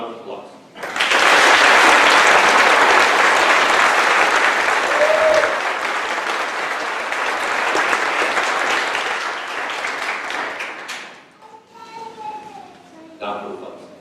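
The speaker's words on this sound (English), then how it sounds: "How about a round of applause?" Graduation audience at a class of 2016 ceremony bursting into loud, sustained applause from a large crowd for about ten seconds, slowly fading, after which a voice speaks.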